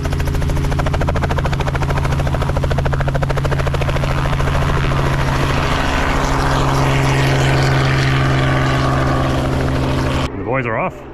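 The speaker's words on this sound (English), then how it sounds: "the boys are gonna jump on the helicopter and go for a spin" A helicopter taking off near a soft sand beach in Australia gives a loud, close, steady rotor and engine roar throughout, with faint voices underneath before it abruptly cuts out at the end.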